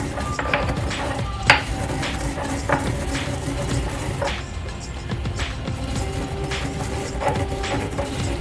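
Fennel seeds ground by hand for a Kashmiri lamb rogan josh, giving a steady scraping, rattling grind with soft knocks and one sharper clack, close and alone without talk.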